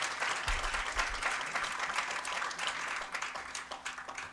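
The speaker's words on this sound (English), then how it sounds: "Give him a round of applause." An audience at a live jazz concert at Tribeca Performing Arts Center applauds the drummer, a steady wash of many hands clapping heard from within the hall, with no talk.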